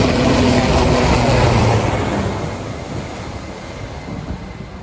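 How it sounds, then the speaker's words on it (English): A low-flying helicopter passes overhead near a sandy fishing spot, making a loud, broad roar that fades slightly as it moves off, with no talking. "just got away from the helicopter"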